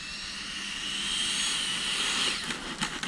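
RC jet plane making a fast pass into the landing pattern, a loud roaring turbine rush that swells as it goes by and then fades, with a few faint knocks at the end.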